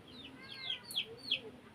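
Chickens clucking and calling near a house, several short rising clucks in an uneven rhythm, fairly close and moderately loud over low background noise, with no talking.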